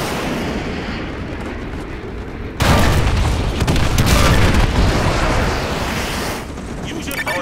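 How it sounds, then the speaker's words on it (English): Artillery barrage in Call of Duty: Modern Warfare 2 Remastered: a loud, continuous roar of rumbling blasts that swells abruptly partway through and stays dense and heavy, with no distinct separate shots. "Fire mission received. Artillery inbound."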